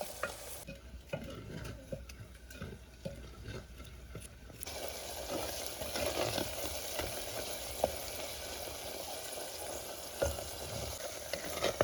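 Masala with green pigeon peas and onion frying in a pan, heard as a steady sizzle with scraping stirs, quieter at first and then a denser, louder crackle.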